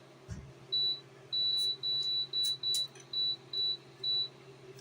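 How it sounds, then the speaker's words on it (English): A kitchen timer beeps eight times in an even series of short, bright, clear tones over a quiet room hum, with a soft knock near the start. "I'm going to set a timer"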